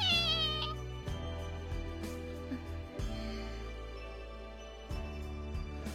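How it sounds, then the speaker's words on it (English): A kitten meowing in a high, thin voice at the start, set against a steady musical background that continues throughout. "The boy pets the kitten's head gently, just as Sachi had before."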